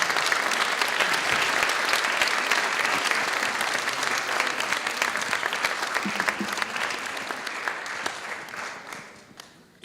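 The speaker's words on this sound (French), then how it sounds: "on les applaudit" An indoor audience applauds award winners at a French education awards ceremony, a dense sustained clapping that gradually thins and fades out toward the end, with faint voices underneath.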